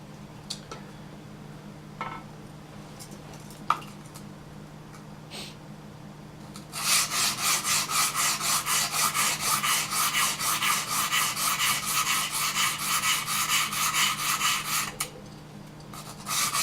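Knife blade stroked on a guided sharpening system, rapid rhythmic scraping and rasping passes for about eight seconds after a few faint clicks and taps, close and clear with no talk.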